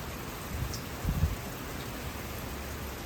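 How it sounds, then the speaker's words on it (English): Heavy rain pouring down on the Appalachian Trail, a steady hiss of falling water with a few faint low thumps, continuous and without voices. "We got another 0 day when it's pouring down rain."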